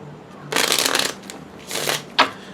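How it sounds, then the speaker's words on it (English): Two bursts of cards being shuffled, a long riffle followed by a shorter one, then a sharp tap as the deck is squared, close and clear. "I'm going to do one more shuffle."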